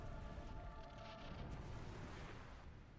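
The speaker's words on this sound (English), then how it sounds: "And we get a massive explosion." A massive rumbling explosion as the fire is relinked in Dark Souls, a sustained deep roar with crackling texture that fills the whole stretch at steady loudness and slowly fades.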